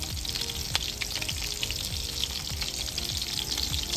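Oil crackles and spits continuously as something fries in a kadai, heard up close with a brief sharp clack and regular low stirring thumps beneath the hiss.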